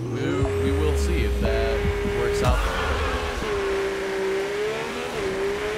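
A rally car engine in the V-Rally 4 video game on a wet hill climb, revving up and shifting through gears with a loud, close, continuous drone and a few pitch drops between gears.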